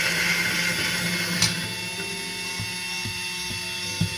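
A Starseeker Edge electric coffee grinder runs steadily on a coarse setting, a continuous mechanical whir with faint clicks and ticks from the burrs as beans feed through, close and moderately loud with no talking.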